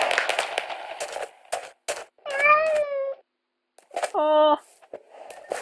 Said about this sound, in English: Where's that cat?